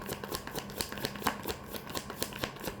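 Tarot cards being shuffled by hand for a reading, a continuous rapid riffling and slapping of card stock, close and fairly soft, with no talking over it.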